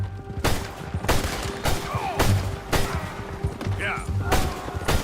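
Gunfire in Red Dead Redemption 2 during a clash with United States Army soldiers, with loud sharp shots cracking out roughly every second in a steady volley.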